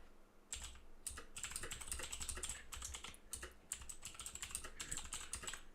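Rapid clicky mechanical computer keyboard typing comes in irregular bursts of keystrokes with short pauses, close and fairly crisp, with no speech.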